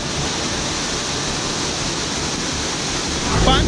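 Fast-rushing water at a waterfall where tourists bathe, a loud, continuous broadband roar filling the clip with no break, growing slightly stronger near the end.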